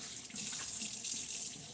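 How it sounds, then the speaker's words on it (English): Tap water runs steadily into a kitchen sink as a dishcloth is rinsed under the stream, a continuous close hiss and splash with no talking. "Just gonna rinse off this rag"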